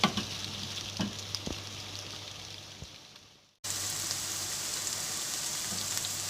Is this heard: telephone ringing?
no